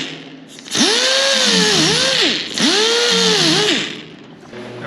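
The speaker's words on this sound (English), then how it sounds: "After I take the floor out, I take a grinder to all the little spots." Angle grinder working the sheet-metal floor of a custom 1930 Dodge truck, two loud sustained bursts with the pitch dipping and rising as the disc bites into the steel.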